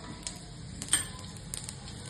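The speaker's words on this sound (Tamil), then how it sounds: "பொரியட்டும் கடுகு பொரிஞ்சிச்சு" Mustard seeds splutter in hot oil, giving quiet, scattered crackles and sharp little pops against a soft background.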